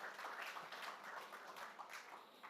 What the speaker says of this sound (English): a big round of applause for Xentara